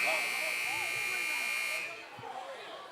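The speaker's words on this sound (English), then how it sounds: "they just stopped because the buzzer went off." A shot clock buzzer sounds at a high school basketball game in Cedartown, holding a steady, loud, harsh drone for nearly two seconds before cutting off. Arena noise and commentary continue beneath it.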